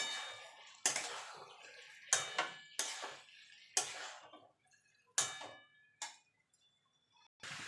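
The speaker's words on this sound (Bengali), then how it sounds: "এবার ভালো করে মিশিয়ে নেব মশলার সঙ্গে" Prawns and jackfruit being stirred with spices in a pan produce a series of sharp metallic clinks and taps at irregular intervals, each followed by a short ringing decay, with quiet gaps between.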